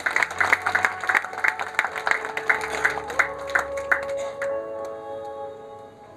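Scattered claps at an Ethiopia investment event, sharp individual hits in an uneven rhythm over a sustained musical tone, thinning out and fading after a few seconds.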